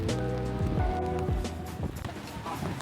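Heavy rain and strong wind on a street in Sydney make a dense, rushing wash, with other low, shifting sounds running underneath and no one speaking.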